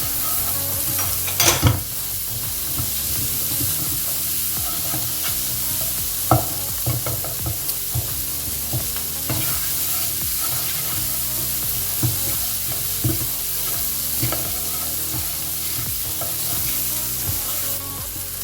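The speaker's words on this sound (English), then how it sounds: "Now I'm going to add the paneer." Paneer cubes frying in a pan for samosa filling, a loud continuous sizzle broken by frequent clattering strokes of a spoon stirring the pieces.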